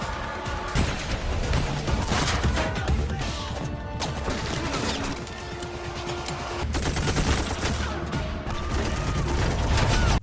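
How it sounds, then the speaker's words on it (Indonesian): Dense, loud bursts of rapid gunfire and crashing impacts as a ninja shoots down a gang in a film, nearly continuous volleys with little pause. "Ninja yang udah muak langsung nembakin mereka semua."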